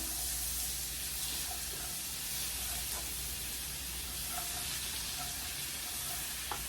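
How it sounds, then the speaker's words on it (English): Butter melting in a hot pan that has browned chicken bits at the bottom, giving a steady close sizzle and hiss with faint crackles throughout, no talking. "Allow the butter to melt."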